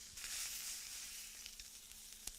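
Sausages fry in a pan at breakfast, giving a steady, fairly quiet hiss and sizzle with a few small pops and crackles, no voices present.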